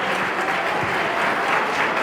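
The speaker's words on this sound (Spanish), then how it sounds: "Lo vi como apagado ese aplauso." A church congregation applauds during a sermon, a steady, dense wash of clapping that is subdued rather than enthusiastic and continues evenly throughout with no voices over it.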